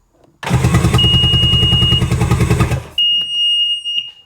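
Sea-Doo GTX Di personal watercraft engine cranked over with the spark plugs removed and the throttle wide open, a loud even whirring spin for a few seconds, then a thin high tone after it stops.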